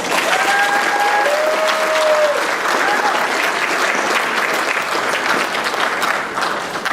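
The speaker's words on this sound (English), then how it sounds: "Let's hear one more round of applause for all of our incredible contestants" An audience at the Miss Cinderella pageant applauds its contestants after the evening gown competition. Full, sustained clapping fills the room, with a few brief whistles over it early on.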